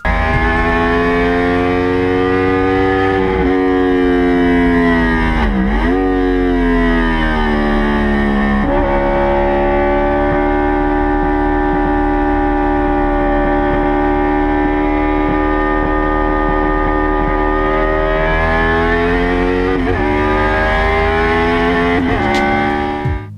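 A car fitted with a Honda 800cc V4 motorcycle engine revs hard and high, a loud sustained wail that climbs, dips briefly and rises again, racing-engine style, with no talk.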